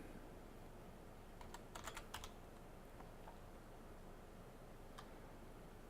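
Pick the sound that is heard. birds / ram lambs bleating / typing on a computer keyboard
typing on a computer keyboard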